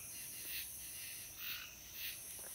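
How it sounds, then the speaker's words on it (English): Tree frogs and katydids calling on a night hunt, a faint continuous chorus with several rhythmic pulsing bursts of high calls repeating about every half second. "If you guys can hear that, that's all those tree frogs. And then also the katydids."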